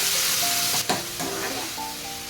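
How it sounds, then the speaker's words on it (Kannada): Onions sizzle steadily in oil with green chili and curry leaves in a pan. One sharp utensil clatter sounds near the start, and faint tonal music plays underneath. "ಆಮೇಲೆ ಈರುಳ್ಳಿ ಹಾಕ್ಕೊಂಡು ಗೋಲ್ಡನ್ ಕಲರ್ ಬರೋವರೆಗೂ ಸ್ವಲ್ಪ ಫ್ರೈ ಮಾಡ್ಕೊಳ್ಳಿ."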